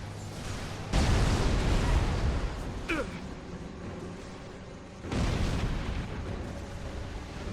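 Explosions in Resistance 2, two heavy booming blasts several seconds apart with rumbling tails and debris, a sharper crack between them, and a voice talking briefly alongside.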